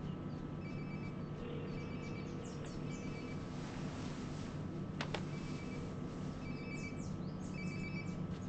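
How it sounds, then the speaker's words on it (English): A phone ringing nearby in the Life is Strange video game, faint repeated electronic ring tones over a steady ambient hum, with no talk. "Sounds like my phone is definitely nearby."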